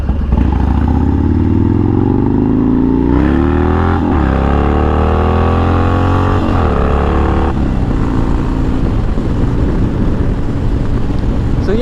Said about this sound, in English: Sorry about all the wheelie wannabe stuff.